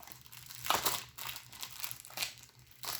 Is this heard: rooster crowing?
no